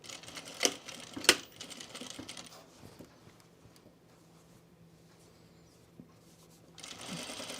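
A sewing machine stitches a Deer and Doe Sirocco jumpsuit, mostly quiet and faint, with two sharp clicks early on and a louder burst of running at the end.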